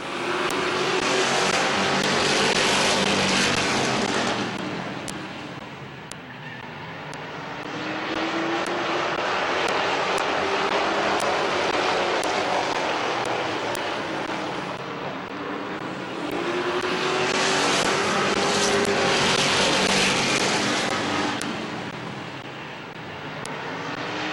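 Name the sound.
race cars racing around Midvale Speedway track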